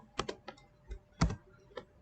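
Keys on a computer keyboard click in a quick cluster of close taps, followed by a firmer press of the Enter key and a few lighter trailing clicks.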